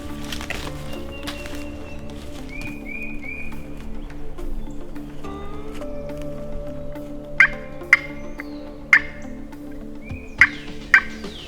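A wild turkey gobbles during a spring bow hunt in the Kansas countryside, with several short gobbling bursts in the second half over a steady outdoor background hum.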